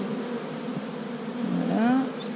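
Honey bees buzzing on an open beehive frame in a brood box, a dense, steady hum close by that swells into a rising whine near the end, with no voices.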